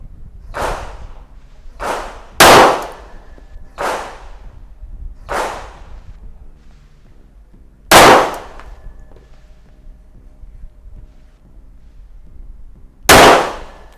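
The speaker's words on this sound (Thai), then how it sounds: "พร้อมแล้วเริ่มยิงครับ" SIG Sauer P220 pistol fired at a shooting range: seven sharp, loud single shots at irregular intervals, each cracking out cleanly over quiet gaps.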